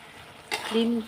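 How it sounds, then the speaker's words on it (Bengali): Potatoes being sautéed with spices in a pan give one sudden stirring scrape with a soft sizzle, close and brief, and a voice follows right after. "দেখো আলুগুলোও দিয়ে দিলাম, এখন কষিয়ে নেব।"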